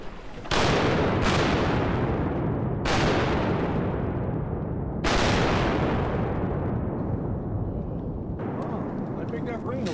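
Shotguns fired at mallard ducks during a hunt, several loud booming blasts in quick succession with long echoing tails, some overlapping, while people talk and shout in the background.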